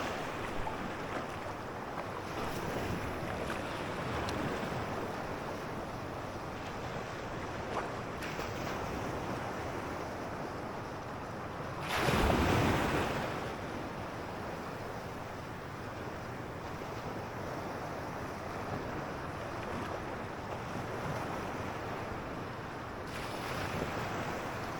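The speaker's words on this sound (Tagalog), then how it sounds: "katamtaman lang na alon" Moderate sea waves wash steadily onto a shore under constant wind, with broadband surf filling the clip and one louder wave surge near the middle before the wash settles back to its even rhythm.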